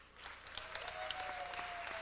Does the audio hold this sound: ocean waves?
no